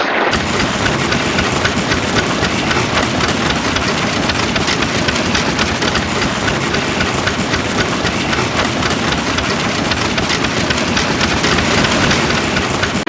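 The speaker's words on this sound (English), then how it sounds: "This water pump here is a IBC water pump made in the 50s." A 1950s IBC water pump engine running outdoors, a loud, dense, steady mechanical clatter with rapid regular firing pulses continuing without pause.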